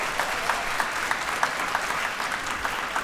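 Steady applause from a live seminar audience, dense and continuous clapping with light cheering throughout, no speech over it.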